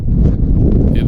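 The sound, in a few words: strong hurricane wind at Meteor Crater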